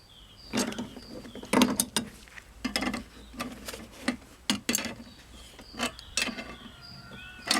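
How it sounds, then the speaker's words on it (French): Wrench tightening a fitting on a Pantone engine mounted on a lawn mower, heard as repeated short metallic clicks and ratcheting bursts at close range, coming in irregular clusters with pauses between them and no talk. "Je viens serrer à la clé."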